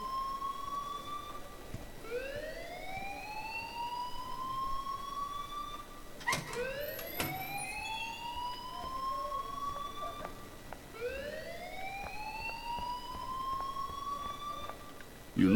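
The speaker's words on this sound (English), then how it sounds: "please turn off that alarm since that's your job" Alarm in the video game Life Is Strange, a repeated rising electronic whoop sounding in three long sweeps with a brief clatter between, fairly faint and distant.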